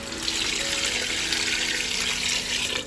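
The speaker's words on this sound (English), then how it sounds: "Now we're gonna add water." Water poured into a pot of braising lamb shanks with apricot, a steady close splashing rush lasting a few seconds with no talk.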